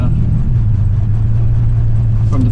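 A 1987 Chevy S10 pickup with no turn signals rolls steadily down a gravel road, its engine a loud, constant low drone close by, with no one talking.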